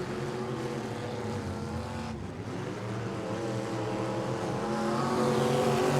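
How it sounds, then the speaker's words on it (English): Factory stock race cars racing at Tulsa Speedway: a continuous dense engine roar that holds steady and swells slightly louder toward the end, with no talk over it. "Brown Lee is out front with a couple of car length lead"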